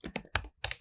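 Quick keystrokes on a computer keyboard while entering text in Illustrator, a short burst of several close, crisp clicks in uneven rhythm.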